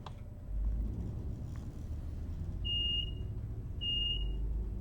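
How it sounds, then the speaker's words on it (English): A train guard's signal in the game Train Simulator gives two short, clear, high-pitched beeps about a second apart over a low, steady cab rumble. "Enough with the beeps?"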